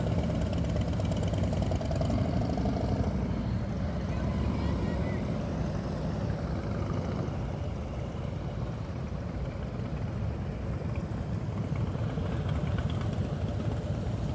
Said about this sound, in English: Keep that throttle loaded, Frank.